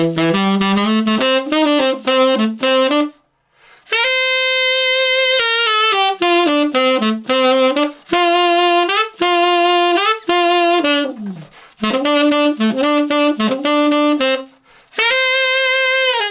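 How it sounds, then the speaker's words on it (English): Tenor saxophone playing the solo from Pioneer's "Waiting for a Star to Fall" an octave lower than written, a continuous legato melody with quick runs and a few brief breaths between phrases, close and loud with no talking. "I'll play it through first of all for you down the octave on the tenor saxophone"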